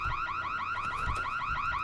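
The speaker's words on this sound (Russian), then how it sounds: "Сигнализация" A car alarm wails in the zombie game Dying Light, a loud warbling siren sweeping up and down in rapid repeating cycles, steady and close with faint low thumps beneath.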